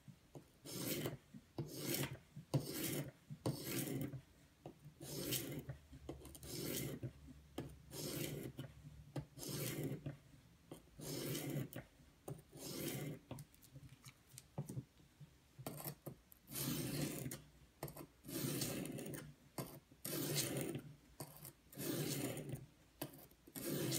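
A Hogue X5 knife blade rasps back and forth on a 120 grit stone of an Edge Pro Apex sharpener, in steady repeated strokes, close and fairly quiet.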